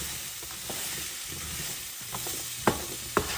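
Shrimp and noodles with green onions and pimento sizzle steadily in a pan, with a utensil scraping and stirring; a few sharp clanks of the spoon against the pan stand out near the end.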